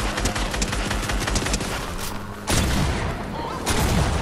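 Gunfire in the battle-royale game Fortnite. Rapid, dense volleys of shots rattle almost without a break, with two louder bursts near the middle and the end, over steady game noise.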